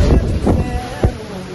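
Strong gusting wind at sea on a catamaran, rough buffeting wind noise across the microphone in repeated low surges, loud and close.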